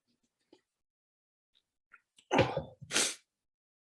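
A single loud, close sneeze in two bursts, a sharp intake followed by an explosive release, preceded by a few faint soft sounds and a brief spoken word.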